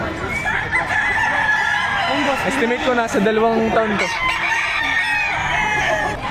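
Roosters crow and cluck continuously at a livestock auction market in Padre Garcia, Batangas, loud and close, while people talk and bargain over them throughout.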